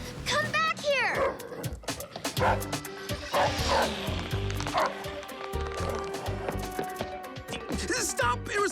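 Cartoon dog barking and yipping in an animated adventure scene, several short barks and whimpers mixed with excited character voices shouting over it.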